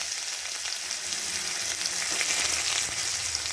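Chopped onion hits hot oil already crackling with whole cumin and hing, giving a steady, close, dense sizzle that holds evenly for several seconds with no voices.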